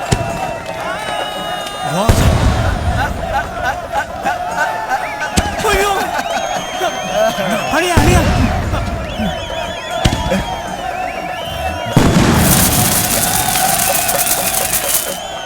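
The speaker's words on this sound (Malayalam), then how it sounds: "വെടിക്കെട്ടൊക്കെ മതി." Fireworks go off in a Malayalam film scene as loud, sharp blasts and crackling bursts, with a crowd clamouring and voices shouting throughout.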